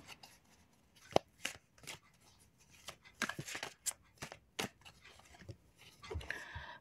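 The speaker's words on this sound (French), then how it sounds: "Je vais tirer une deuxième carte pour avoir un peu plus de précision" An oracle card drawn from a deck during an angel-message card reading, heard as soft, close rustles, taps and brief shuffling noises with faint bits of movement in between.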